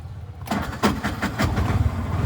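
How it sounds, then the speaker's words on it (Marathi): An auto rickshaw engine cranks and catches, then settles into a rapid chugging idle, loud and close. "तर मित्रांनो, चला आता आपण रिक्षा चालू करूया"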